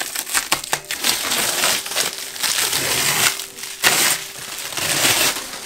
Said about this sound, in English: we're gonna unwrap the lips, and you actually will see the engraving for the first time